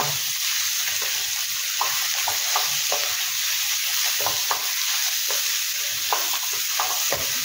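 Spiral pasta with chicken salami frying in a pan on a gas stove, a steady loud sizzle with repeated scraping stirs of the spoon throughout, no voices.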